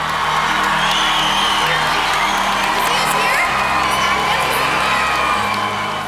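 A large school crowd cheers, with children shouting and whooping, a loud, continuous roar that holds steady throughout, with voices mixed into the din.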